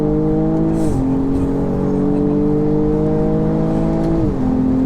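Tuned 450 bhp BMW M240i xDrive pulling hard in second gear, its engine droning loud and close with a steadily rising pitch, dipping briefly at each shift before climbing again.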